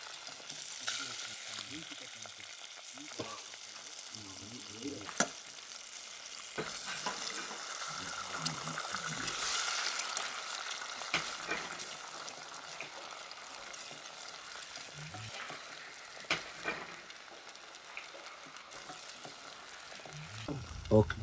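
Biryani gravy frying in a pan at a forest campsite, a steady crackling sizzle with occasional stirring scrapes and clinks, close and continuous throughout with no talking.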